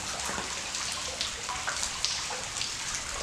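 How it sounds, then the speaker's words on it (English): Steady rain falls outdoors, a dense hiss with scattered drops pattering close by, continuous and without talk. "For the love of God, stop raining."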